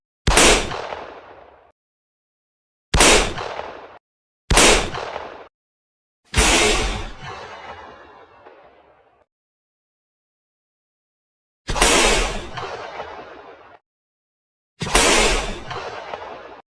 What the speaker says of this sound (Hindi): क्या हम इस शूटर से इन तीनों को एक ही जगह पर रहकर शूट कर पाएंगे